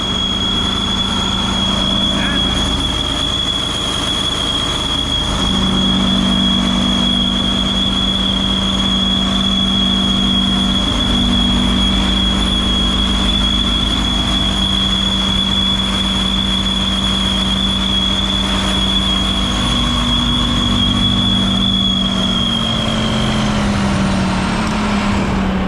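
Rear-steer power steering shaft on a concrete pump truck turning during a pour, a steady loud mechanical whine and droning hum over heavy engine rumble, continuous for the whole stretch with a pitch shift near the end.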